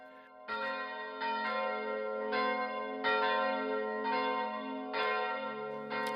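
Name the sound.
Protestant temple church bells ringing on Sunday morning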